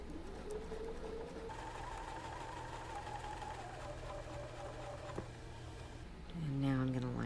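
A sewing machine run at a slowed speed stitches a quilt seam, giving a steady low mechanical hum that continues without a break. Faint background noise sits under it, and a brief chirpy sound rises near the end.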